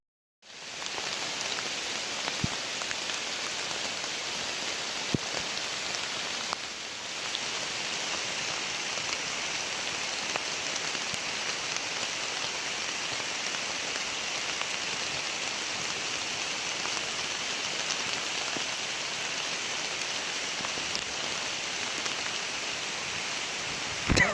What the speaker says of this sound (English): That's right. It's raining.